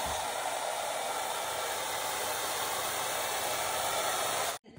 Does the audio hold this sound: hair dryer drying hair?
yes